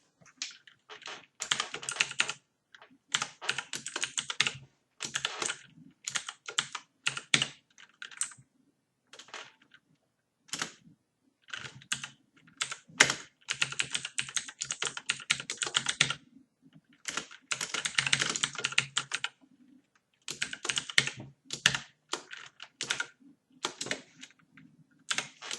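Fingers type code on a computer keyboard in bursts of rapid clicking keystrokes separated by brief pauses, close and clear with no talking.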